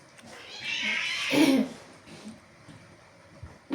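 A cat meows once, fairly close and moderately loud, a drawn-out cry heard over background chatter during a tong-its card game at home.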